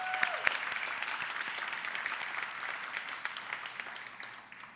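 A crowd at a Glendale Women's Equality Day event claps for the women who fought for the right to vote, with steady, moderately loud applause that slowly tapers off.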